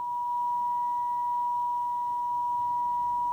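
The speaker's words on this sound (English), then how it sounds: "I don't know if you can hear the change in the sound as I adjust the detector." A steady, pure tone from a Zenith R430 AM/FM table radio hums continuously at one pitch as the detector is adjusted, clear and fairly loud, with faint hiss underneath and no voices.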